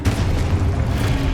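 A Confringo spell blast goes off in a Hogwarts wizarding video game, a brief loud rumbling boom with a crackling burst that fills the short moment.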